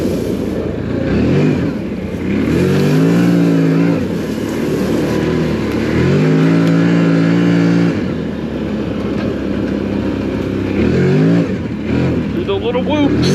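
A 2025 CFMOTO Cforce 800 Touring ATV engine revs repeatedly on a muddy trail, several loud close bursts of rising and falling pitch with engine roar throughout and someone talking over it.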